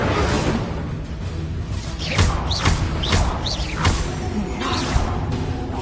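An Incendio fire spell cast in a Hogwarts video game bursts out in several sharp whooshing swishes with thuds, loud over a busy game background.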